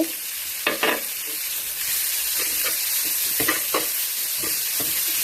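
Pounded curry paste frying in hot oil with pork, a steady loud sizzle and hiss throughout, broken by several short scraping stirs of a utensil in the pan.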